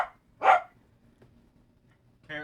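A dog barks indoors, one sharp bark followed after a pause by another bark or whine at the end, close by and clear against a quiet room.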